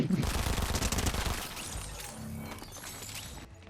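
Twin Uzi submachine guns firing in a fast rattling burst in Fortnite Chapter 5 Season 4, loud at first and then tapering into quieter game noise, with a voice talking over it.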